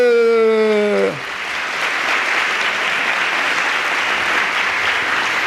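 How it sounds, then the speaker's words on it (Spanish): Congregation applauding Jesus during a Spanish-language sermon: after about a second of a sustained sung or spoken tone, loud, dense clapping from many hands fills the rest, steady and close. "Un aplauso para Jesús."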